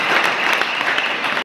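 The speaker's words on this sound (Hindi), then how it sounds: "अभी तालियां बजाएं" Steady audience applause at a Sindhi community women's honour ceremony, a dense, even wash of many hands clapping close and loud throughout, ending abruptly.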